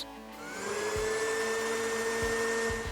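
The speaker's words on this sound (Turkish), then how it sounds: "Kırıntılar için mısır gevreğini blenderdan geçirelim" A kitchen blender grinds cornflakes into crumbs, its motor spinning up and then holding a loud, steady whirring whine with a few dull knocks, and no talking.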